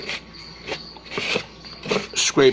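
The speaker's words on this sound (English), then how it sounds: "I just took like a little piece of cardboard like this, and I just come down and I scrape" Scraping cricket droppings out of a cage with a small piece of cardboard, a series of short dry rasping strokes, fairly close and soft, with irregular pauses between them.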